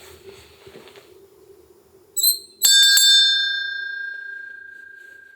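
A single bell is struck once and rings out clearly with a long, slowly fading tone, after a brief metallic tap just before it, in a quiet indoor space during a paranormal investigation.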